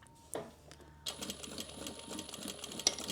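A sewing machine stitches a tote bag seam at a quarter-inch allowance, starting with a few slow clunks and then running into a steady, close mechanical chatter of rapid needle strokes.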